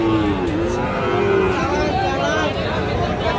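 A Sahiwal bull calf lows at a busy cattle market, long wavering moos rising over a constant babble of crowd chatter and people talking nearby.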